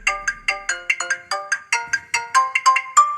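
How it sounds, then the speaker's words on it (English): A phone ringtone plays a bright, repeating melodic pattern of quick electronic notes, clear and alone with no talking. "What about custom ringtone?"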